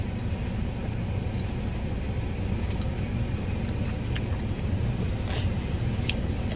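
Steady low road rumble and broadband noise fill the cabin of a moving car, continuous and loud throughout, with a few faint clicks and rattles and no talking.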